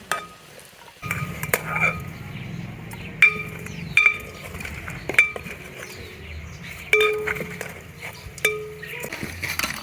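Metal utensils clink and scrape repeatedly against a cooking pot as meat is lifted out of a rice and tomato stew, the sharp strikes coming at irregular intervals, close and fairly loud.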